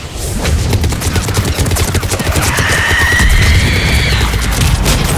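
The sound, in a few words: missiles launching in the video game Mass Effect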